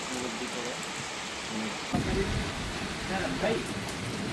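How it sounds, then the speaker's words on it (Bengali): Monsoon rain pours steadily in the Sundarbans, a constant broadband patter, with a slight surge in intensity partway through and a faint low rumble beneath. "টানা 3 দিন ধরে বৃষ্টি হচ্ছে এদিকে।"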